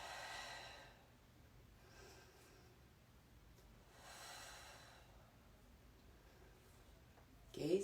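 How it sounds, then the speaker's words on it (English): Slow, deep breaths drawn during a home yoga class come in about three soft, faint cycles with quiet pauses between them, and a brief sharp rustle ends the stretch. "Breathe deep."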